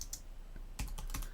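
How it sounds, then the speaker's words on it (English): Several quick keystrokes clatter on a computer keyboard, coming in a short burst of clicks after a brief pause, fairly close and quiet, with no talking. "man, I'm having trouble with my keyboard again"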